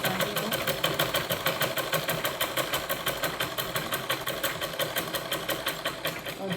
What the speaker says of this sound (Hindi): मशीन से जब हमें कच्चा सिलना हो तो हम मशीन की बड़ी चाल करके ही कच्ची सिलाई लगाते हैं।